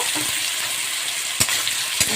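Steady crackling sizzle of cut potatoes frying in hot oil for chirer polau, with a couple of brief scraping stirs partway through.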